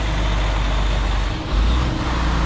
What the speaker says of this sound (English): I hear the truck.